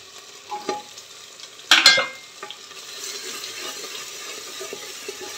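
Spices and salt stirred into vajri (tripe) frying in oil, a brief loud scraping stir burst mid-clip over a steady soft sizzle, with lighter stirring clinks before and after.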